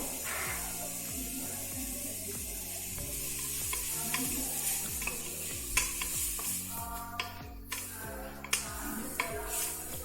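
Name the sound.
tomatoes added to hot oil, sizzling while stirred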